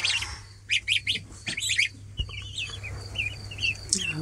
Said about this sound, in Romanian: Și aici sunt puii care au crescut golănei.